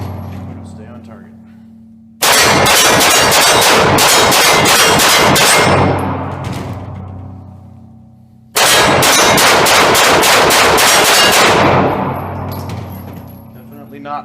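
Rapid fire from a Smith & Wesson M&P Core 9mm pistol shooting 115-grain ball ammunition at a range: two loud, fast strings of sharp shots, each string ringing out and fading as it ends.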